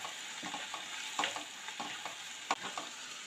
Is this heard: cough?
no